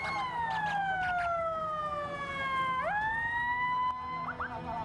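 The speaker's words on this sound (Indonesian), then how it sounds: "Mobil ambulans dari sejumlah desa di Kabupaten Purwakarta berdatangan hingga memenuhi kantor Dinas Perhubungan" Wailing ambulance sirens from village ambulances arriving at a drivers' protest outside the Purwakarta transport office sound loud and close, one long descending tone then a sharp rising sweep, with another siren joining.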